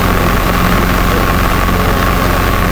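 A Robinson R22 helicopter in flight, its engine and rotor making a loud, steady, close droning hum with a constant low throb from the cabin.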